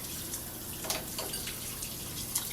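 A hot water tap runs steadily, a continuous broadband splashing hiss with a few faint clinks, moderately quiet and heard alone without speech.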